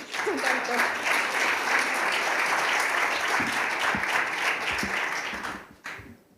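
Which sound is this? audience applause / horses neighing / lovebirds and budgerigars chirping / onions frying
audience applause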